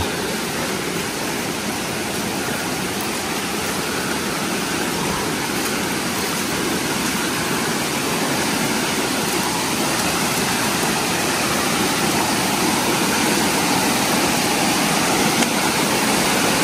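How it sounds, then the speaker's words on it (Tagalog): Water overflows and rushes along a village path in a loud, continuous, steady roar, close and unbroken throughout, with no voices. "Umaapaw yung tubig."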